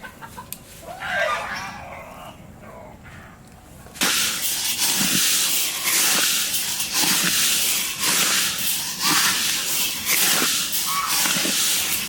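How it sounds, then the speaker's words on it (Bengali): Mustard oil hits hot rice being heated to puff it, and a loud, broad sizzling hiss starts abruptly and keeps roaring, pulsing as the grains are stirred, after a quieter stretch of faint scraping. "চাল গরম হয়ে গেছে আনটু সরষের তেল দিয়ে দেবো"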